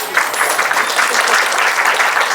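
Loud, steady applause fills a wedding ceremony hall as guests clap for both families, a dense, even wash of hands with no break throughout.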